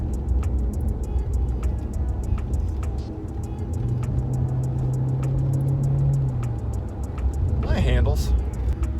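A Maserati Quattroporte with a Lorini exhaust pulls away steadily, its engine note rising over a constant road roar while occupants talk in the cabin.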